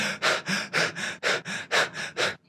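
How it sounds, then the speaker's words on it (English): Rapid hyperventilating breathwork exercise: nine quick, forceful breaths in a steady rhythm over a couple of seconds, loud and close with no talking. "So for 20 seconds, we're going to breathe like you're having a panic attack,"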